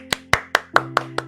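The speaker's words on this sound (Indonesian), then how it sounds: "Tepuk tangan buat kita semuanya." Six separate, evenly spaced hand claps ring out close and sharp, each a crisp single slap with a short decay, at a seminar-style gathering.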